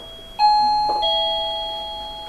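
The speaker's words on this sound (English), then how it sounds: "Finally, the second bell." A timekeeper's bell at a debate gives a clear two-tone electronic ding-dong chime that rings out and slowly fades, with no talking over it.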